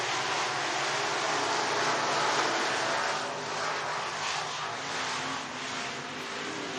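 Dirt-track race cars at Boone Speedway in Boone, Iowa roar together as they accelerate on the green flag, a loud, steady, dense engine drone that swells slightly and then holds.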